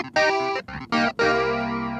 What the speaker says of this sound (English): now we got a flange in addition to our distortion cabinet effect